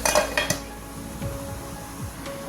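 A metal lid lifted off a pot of chicken curry, a couple of sharp clinks at the start followed by quieter scraping metal sounds near the pot, no one talking.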